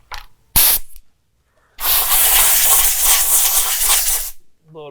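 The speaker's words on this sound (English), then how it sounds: "And what I'll do is I'll just go in, blow everything off with an air hose." Compressed air hose blasting debris off a Ford truck frame with the cab removed: a couple of short hissing bursts, then a loud, sustained rushing blast for nearly three seconds, close to the mic.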